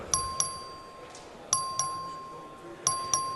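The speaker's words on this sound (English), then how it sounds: "Please ring the bell." A chime in a state House chamber sounds to call a record vote on an amendment, three pairs of bright ding tones spaced over a few seconds, clear against a quiet room.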